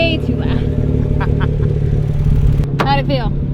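A Lexus with a 1JZ engine runs steadily close by, a dense low engine drone held throughout, with brief voices talking over it.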